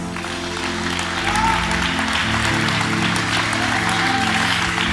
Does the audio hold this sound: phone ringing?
no